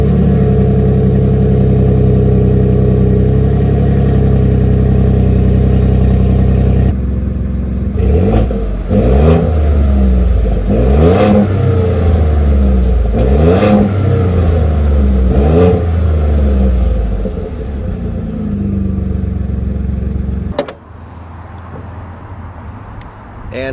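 A 2023 Ford F-150 pickup truck engine idles with a steady low rumble, then revs up repeatedly in loud surges before dropping back and cutting off near the end.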